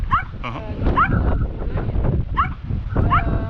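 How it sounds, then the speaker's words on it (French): A border collie bitch yips and whimpers in short bursts, several quick high-pitched yelps close by, with people talking underneath throughout. "C'est une chienne border collie"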